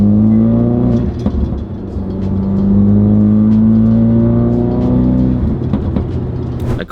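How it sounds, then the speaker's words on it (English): A Ford Focus RS engine with a Mountune recirculation valve idles then revs steadily, its droning pitch rising and falling, with a faint turbo whir over it, exhaust valve closed, and occasional clicks; no talking. "I'm gonna let you hear these turbo noises now that the exhaust is quiet"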